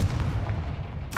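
A Confringo fire-blast spell in Hogwarts Legacy bursts with a deep, booming rumble that fills the short moment, followed by a brief sharper crack near the end.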